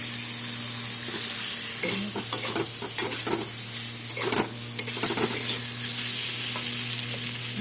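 Ground poppy seed paste and spice masala, already fried with chili, being sautéed and stirred in a pan for potol posto: a steady close sizzle with scraping spatula strokes and a few louder clacks against the pan.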